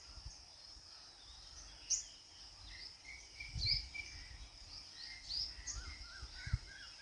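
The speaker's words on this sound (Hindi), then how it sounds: "अभी भी सुनो गौर से तो कितनी चिड़ियों की आवाज़ आ रही है।" Birds call from a peepal tree at dawn, a few faint high chirps and tweets scattered over a quiet, low-rumbling background, with insect-like trilling throughout.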